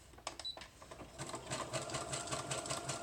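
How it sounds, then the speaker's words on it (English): A home sewing machine stitches a double zigzag line on a craft envelope or wallet, a few clicks and then a steady, close mechanical whirr with a rapid repeating needle rhythm. "So I'm going to sew again. It'll be a double line of zigzag."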